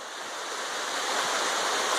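A small gold-bearing creek flowing steadily, a continuous broadband rush of running water close by, with no talk over it.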